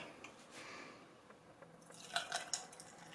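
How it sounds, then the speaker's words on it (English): Coffee poured into a glass over about eight ice cubes for an iced vanilla coffee, heard as a quiet, close trickle and drip with faint clinks toward the end. "you will start off by pouring in the coffee"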